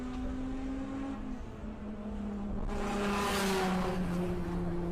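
A VW drag racing car at Santa Pod runs with the throttle feathered, a steady engine drone whose pitch wavers and dips before swelling again, heard continuously with a burst of louder broadband noise midway.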